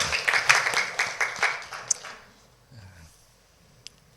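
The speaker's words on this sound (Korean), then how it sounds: "우리 수고한 우리 찬양대 위해서 우리 감사의 박수 한번 하겠습니다" A church congregation at Sunday morning worship claps in thanks for the choir: a brief burst of applause that thins out and fades within about two seconds, followed by quiet room sound with a few faint stray noises.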